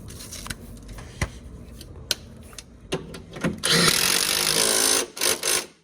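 Bolts on a Holden Rodeo / Colorado / Dmax shock absorber being tightened with a socket during a 2 inch Fullcrum lift kit install: scattered clicks and taps, then a loud sustained burst of tool noise near the end.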